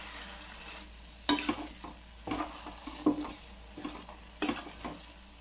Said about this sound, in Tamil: இப்போ ஸ்டவ்வை ஆஃப் பண்ணிவிட்டு இந்த ஹீட்லேயே நம்ம மிளகாத்தூளை போட்டு கிண்டிடலாம்.